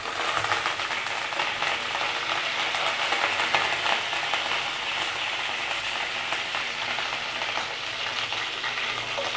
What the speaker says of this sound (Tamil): கடுகு நல்லா பொரிஞ்சு வருது.